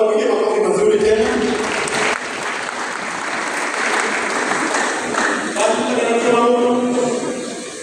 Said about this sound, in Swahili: Na tuwapige makofi mazuri tena